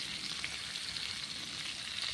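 Large pieces of fish frying in a pan, a soft, steady hiss of sizzling oil heard alone at low level.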